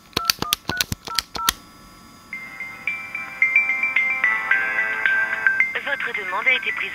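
A telephone keypad dials a call-forwarding function code: a fast run of about seven crisp DTMF beeps, followed by sustained electronic tones and a melodic line.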